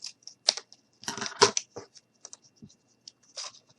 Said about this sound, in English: Just going to cut this down a little more.